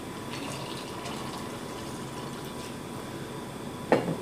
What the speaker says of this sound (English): Now we're going to add our Maker's Mark bourbon.